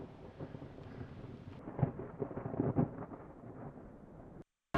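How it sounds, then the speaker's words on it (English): Thunder rolls and rumbles through a thunderstorm in Vail, a low booming rumble with a few stronger cracks, fairly faint and steady, with wind on the microphone before cutting off. "I'm gonna get out of this thunderstorm"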